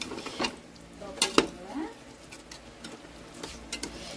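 A spoon stirring chicken biryani masala in a pressure cooker pot over medium-high flame, with scraping clinks, a few sharp metallic knocks and a soft sizzle underneath, close and moderately quiet.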